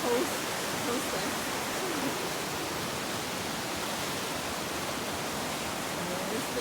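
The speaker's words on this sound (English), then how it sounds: "Here's the Slip Creek. It's roaring along." Slip Creek roars past in a continuous, even rush of water, a loud broadband wash that fills the scene from start to finish.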